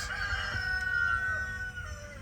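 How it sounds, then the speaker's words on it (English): A rooster crows nearby while three chickens cluck over it, their calls overlapping in a busy, close-up henhouse chorus. "That was 3 chickens"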